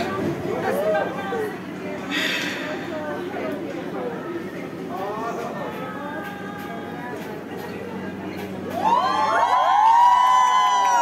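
Crowd of fans screaming and cheering in a Mexico City metro station, a loud continuous roar of shouts and whoops that swells near the end with high shrieks.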